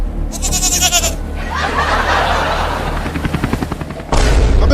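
A goat bleating in a comic skit, loud wavering cries near the start and again at the end, with rumbling and rapid rattling bursts filling the middle.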